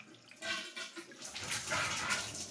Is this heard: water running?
yes